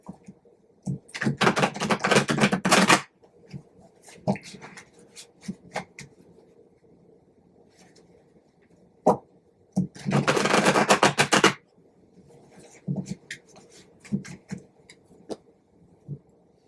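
Two bursts of rapid riffling tarot card shuffles, each about two seconds, with lighter taps and card handling in between, close and fairly loud.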